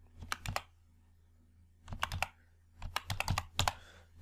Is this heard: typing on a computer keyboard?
yes